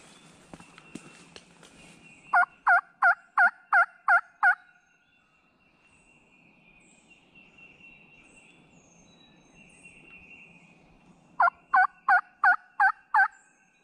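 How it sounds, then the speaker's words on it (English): A wild spring gobbler in the woods lets out two clear bursts of rapid, rattling gobbles, about six pulses each, carrying loudly over quiet surroundings with a long pause between them. "He gobbled 3 times while we were walking just now."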